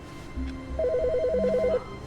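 Electronic telephone ringing in The Stanley Parable, a rapid warbling trill lasting about a second over a low hum, fairly clear and close.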